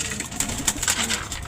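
A young pigeon coos softly in short repeated notes against a faint steady background hiss, close but quiet, with no speech.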